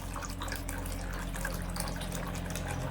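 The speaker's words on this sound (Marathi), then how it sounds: "याला आता यामध्ये ना मी पाणी ऍड करणार आहे" Water pours steadily into cooked mango for juice for a few seconds, a continuous close splashing rush over a low background hum.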